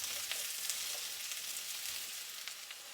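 Mushrooms frying in plenty of olive oil, a steady soft sizzle and crackle with small pops throughout, quiet and even, no voices.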